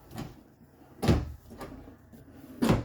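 Three wooden kitchen drawers in a 2022 Jayco Eagle RV slide open or shut in separate knocks, each a short close thump with a soft clatter, spaced about a second apart in a quiet interior.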